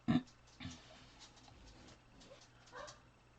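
A dog gives a short, sharp bark, followed by a softer yelp and a few faint whimpers, heard fairly close in a quiet indoor room.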